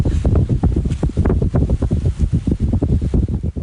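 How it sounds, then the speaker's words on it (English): Strong wind buffets the microphone on a cloudy April day in Dallas, Texas, with loud continuous gusting roar and rumble. "it looks awfully cloudy and it sounds awfully windy"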